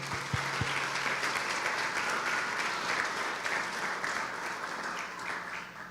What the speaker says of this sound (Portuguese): Aplaudamos ao Senhor.